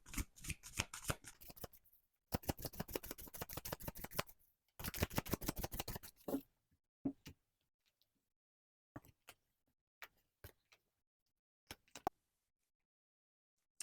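Tarot cards riffle-shuffled in three close, rapid bursts of dense flicking, then a handful of separate soft taps and slaps as the deck is squared and cards are laid down, quiet and without talk.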